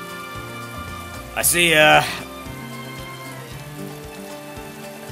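Rain falling in the video game Atelier Ryza 2, a steady soft patter running throughout beneath background music and a character's brief spoken line.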